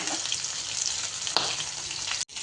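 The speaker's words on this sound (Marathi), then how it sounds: "हे मासे हे आपण डीप फ्राय करत आहोत" Fish deep frying in hot oil, a steady dense sizzle that holds throughout at close range, with a brief crackle burst midway and a sudden short dip near the end. No voices.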